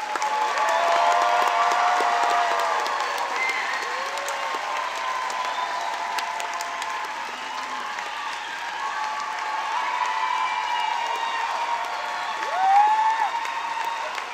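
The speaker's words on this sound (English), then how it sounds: "Let's give them all a round of applause." An audience at a school promotion ceremony applauds the graduating students, a sustained wash of many hands clapping at moderate loudness that swells slightly near the end.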